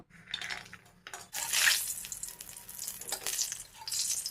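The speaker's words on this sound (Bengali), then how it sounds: "বড়িটা ভাজতে নেব।" Lentil bori frying in a little oil in a hot pan: soft bursts of sizzling with light clinks of a utensil, quiet and close.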